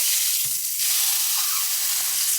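A beef burger patty sizzles in a hot oiled frying pan, a steady bright hiss of frying with a few soft scraping knocks near the start, close and continuous with no talking.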